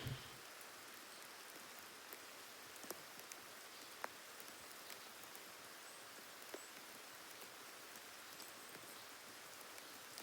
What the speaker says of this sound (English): This is the first rain that I have seen on the boat in a year.